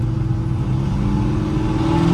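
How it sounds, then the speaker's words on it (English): Chevrolet K15 Squarebody truck with an LSA V8 swap and Corvette exhaust driving in the rain, a steady deep exhaust rumble with a slight rise toward the end, close and loud, with no talking. "new exhaust sounds great."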